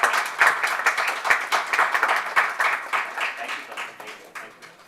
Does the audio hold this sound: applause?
yes